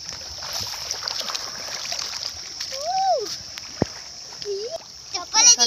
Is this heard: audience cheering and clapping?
no